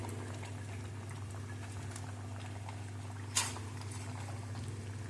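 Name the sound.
fish curry broth boiling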